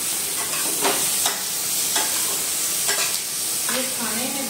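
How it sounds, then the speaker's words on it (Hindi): Semolina and potato breakfast cooking in a pan over low gas, with a steady soft sizzle of frying and a few scraping stirs of a utensil at intervals, close and alone without talk. "दो गैस को कम करके इसको 5 मिनट पकाएंगे।"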